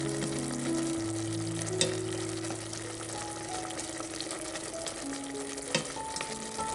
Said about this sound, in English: now time we put the eggplant fry in there, make everything together with the stir fry together with the sauce